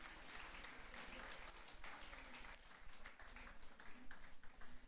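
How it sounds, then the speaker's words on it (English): Applause from colleagues for an agricultural science department at a technical high school inauguration ceremony, faint and distant clapping that swells and grows more uneven toward the end. "Please give them an applause, colleagues."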